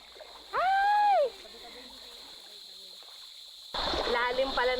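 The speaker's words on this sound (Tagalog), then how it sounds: "Lalim pala ng putik, Bing." Feet splash and squelch through deep mud near a river crossing in the rural Philippines, messy wet sounds heard close up, with a sharp voiced exclamation first and people talking over the later steps.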